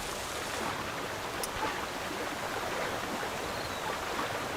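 A waterfall in Zelda: Tears of the Kingdom gives a steady, even rush of falling water, a dense hiss that holds at one level from start to end with no other sounds.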